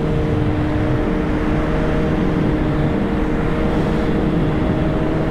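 Kawasaki Z900 A2-restricted to 48 hp being ridden, its engine a steady, loud, even drone with a constant tonal hum and wind rush, no gear changes or pauses.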